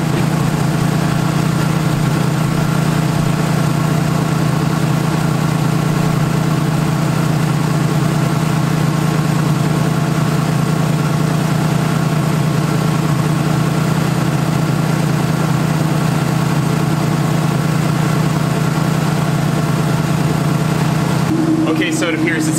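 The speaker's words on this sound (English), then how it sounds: "we're going to just go do a quick spin around the circle here in the neighborhood" A Ford Fairmont whose C4 transmission won't shift into drive runs its engine on a short neighborhood drive, giving a steady, loud, low drone that holds unchanged for about twenty seconds before a brief shift in tone near the end.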